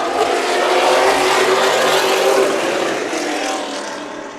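A pack of Pro Late Model race cars roars at Stockton 99 Speedway, a loud, dense, sustained engine drone running side by side that eases slightly toward the end.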